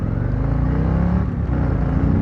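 A Harley-Davidson CVO Street Glide motorcycle pulls away hard from a dead stop, its big V-twin pounding loud and close with a dense low rumble that holds steady and strong for the whole stretch.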